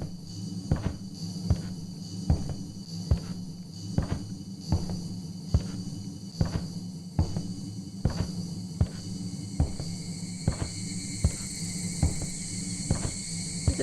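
Cicadas and insects buzz in a steady, shimmering drone inside the horror game Shadow Corridor, with a rhythmic ticking pulse repeating about every half second throughout.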